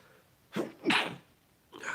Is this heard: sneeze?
yes